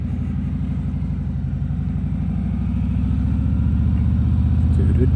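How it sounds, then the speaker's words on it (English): A motorcycle engine being broken in runs steadily at close range, a low throbbing rumble that slowly grows a little louder, recorded through a helmet-mounted microphone with wind noise. "I need to break in this engine."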